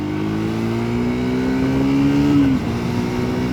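A loud Triumph Speed 400 motorcycle engine revs up, its tone climbing steadily before abruptly cutting back to a lower drone.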